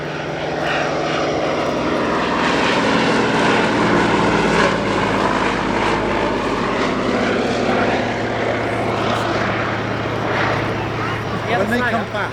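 A Fairey Swordfish biplane passes at the Yeovilton airshow, its propeller engine holding a loud, steady drone throughout with a rising and falling pitch, and a voice talks over it.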